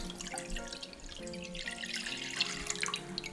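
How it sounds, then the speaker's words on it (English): Roughly three cups of cold water are poured into a pan, making a continuous splashing, trickling pour that stays close and moderately loud with no talk. "So what I have here is a pan that I'm gonna put around 3 cups of water in. This is cold water, by the way."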